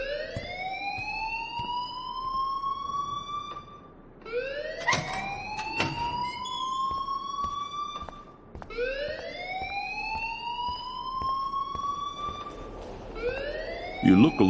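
A wailing electronic alarm in the game Life is Strange sweeps upward in repeated cycles, each rising tone holding before restarting, loud and continuous with brief gaps between rounds.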